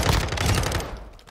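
Heavy rapid gunfire in the video game Call of Duty MW2 DMZ, dense overlapping bursts of automatic fire that ring loud for about a second, then thin out and fade.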